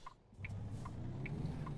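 A truck in American Truck Simulator rolls past with a steady low engine rumble that swells slightly, with faint periodic chimes over it.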